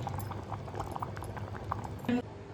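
Rice pudding sweetened with jaggery bubbles in a pot as it thickens, a soft, close gurgling with light pops and one brief louder burst near the end.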